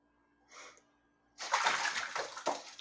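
A soft splash, then a burst of vigorous splashing and sloshing water as a goose bathes in a tub, close by, with no talking.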